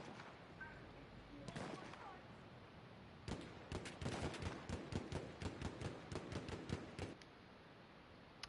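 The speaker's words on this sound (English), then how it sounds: "They're shooting at people" Gunfire in the Battlefield 1 video game, rapid clusters of sharp shots and bursts crackling in a fast irregular rhythm at moderate distance, with a quieter lead-in before the firing picks up.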